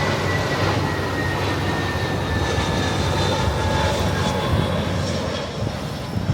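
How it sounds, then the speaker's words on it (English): Airplane flying over near an airport, a loud broad roar of engine noise holding steady throughout before easing slightly at the end. "airplanes again. We're right by an airport, obviously, as you can tell."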